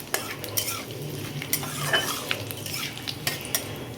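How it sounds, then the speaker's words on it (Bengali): Cardamom pods, cloves and fennel seeds fry in hot oil, a soft steady sizzle broken by frequent sharp clinks of a spoon stirring against the pan, all close up with no voices. "তো আমি এগুলো একটু ভালো করে একটু ফ্রাই করে নেব।"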